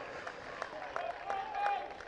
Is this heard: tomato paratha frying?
no